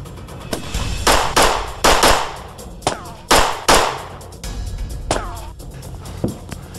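A burst of loud gunshots, about a dozen sharp cracks in irregular quick succession, some doubled, echoing close and loud, with no talking.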